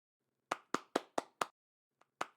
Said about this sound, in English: Audience know how to do the clapping motion